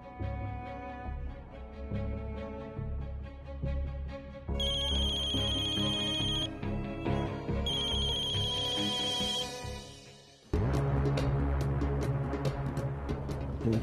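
A phone rings unanswered, a ringtone melody playing on and off with a high electronic ringing tone layered in, then cutting out before a louder burst of sound, with no speech over it.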